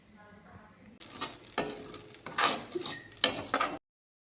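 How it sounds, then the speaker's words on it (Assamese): A spatula scrapes and clatters in a pan as rice flour for pitha dry-roasts. The knocks and scrapes come in uneven bursts, fairly close, with no talking. "মাই ভাজি আছে পিঠাগুৰি"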